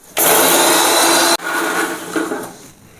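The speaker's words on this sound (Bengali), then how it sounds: "এই মশলাটা গুঁড়ো করে নেব।" An electric grinder whirs loudly as it grinds roasted cumin, coriander and dry chilli, running in a strong burst, stopping briefly, then grinding again at a lower, uneven pitch before winding down.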